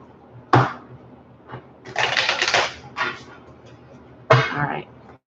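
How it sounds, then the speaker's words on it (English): Tarot cards are shuffled in short bursts: a sharp riffle, a longer papery flutter, then another crisp riffle, close and fairly loud against a quiet room. "One more shuffle, please."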